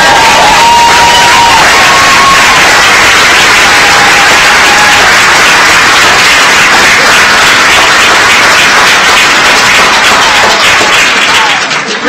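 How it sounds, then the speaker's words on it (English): Roaring applause and cheering for graduates at a fall commencement, a large crowd clapping, whooping and shouting at very high volume, continuous and saturated throughout. "let's give one more round of applause to our graduates"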